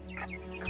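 Chicks and grown chickens cluck in a short burst of soft, close calls, heard alone without any talking.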